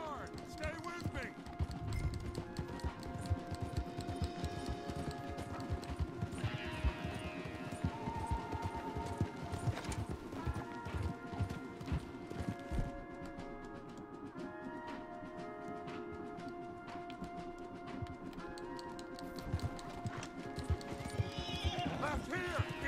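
Horses in Red Dead Redemption 2 gallop with steady clip-clopping hooves and sharp whinnies and neighs, set under continuous game music and scattered voices, loud and busy throughout.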